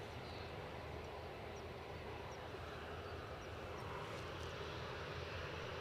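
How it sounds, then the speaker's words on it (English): A brand-new WestJet Boeing 737 MAX 8 in from Toronto arrives at Edinburgh airport, a faint, even jet roar held steady from a distance with no voices. "In comes our WestJet from Toronto, a MAX 8 brand new"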